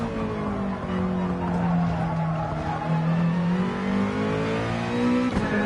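A rally car in a racing video game revs at full throttle, its engine note holding loud and steady and climbing in pitch, with brief tire skids near the end; no one speaks.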